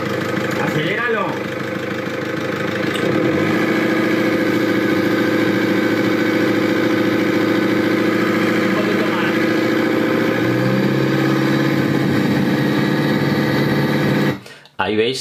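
A car engine with a freshly rebuilt, defective turbo that leaks oil into the intake roars loudly and close, with a quick rev near the start, a sustained steady drone, then a brief drop near the end.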